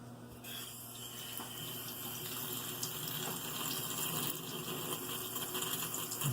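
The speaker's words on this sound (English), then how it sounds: "Then you want to just slowly turn on the water." Water rushes steadily from a tap into a hose for filling a waterbed, a continuous hissing flow that holds at an even level from start to finish, with faint mechanical clicks underneath.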